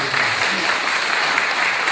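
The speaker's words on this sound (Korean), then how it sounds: "큰 감사의 박수를 좀 부탁드립니다" Members at a Gwangmyeong District 2 redevelopment briefing session break into thick, continuous applause that holds at an even level for two seconds, with no voices on top.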